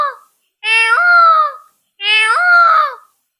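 A girl in grade six, performing mimicry at a school, imitates a wild peacock's call with two loud, drawn-out wailing cries separated by a short pause, close and alone.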